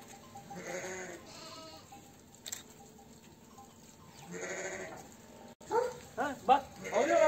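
Sheep bleat while a dog herds them, with calls and barking-like cries scattered through the clip and a man calling out over the flock.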